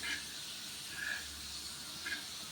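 Pieces of elephant yam, prepared like a spicy fish fry, sizzle in hot oil with a steady, soft hiss and a few brief louder crackles.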